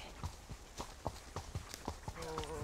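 Horse hooves clip-clop in a steady, even walking rhythm, fairly close and moderately loud, over about a dozen distinct strikes, with a faint voice briefly in the background near the end.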